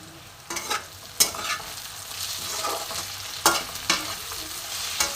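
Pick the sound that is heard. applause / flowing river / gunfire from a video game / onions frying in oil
onions frying in oil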